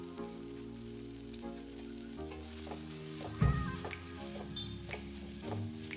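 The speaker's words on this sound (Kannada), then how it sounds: "ಟೊಮೆಟೊನ ಅದಕ್ಕೆ ಹಾಕ್ಕೊಂಡು ಫ್ರೈ ಮಾಡಕತ್ತೇನೆ ರೀ ಚಲೋತ್ತಂಗೆ" Tomatoes with turmeric powder fry in oil for an eggplant curry, a steady close sizzle broken by scraping stirs and a louder clatter of the spoon against the pan midway.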